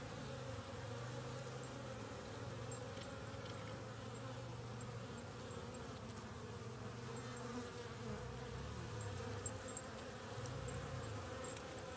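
Honeybees out of the hive on a winter day between warm spells, buzzing steadily and densely around the entrance, a continuous close hum of many wings with no talk.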